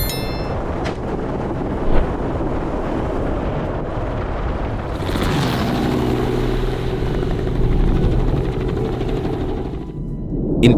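A helicopter flying over Texas farmland for wild pig hunting: a steady, loud rotor and engine roar, with no voices.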